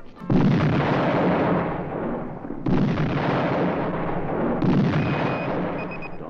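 Army cannon firing three heavy booming blasts spaced a few seconds apart, each loud and close with a long rumbling decay that runs into the next.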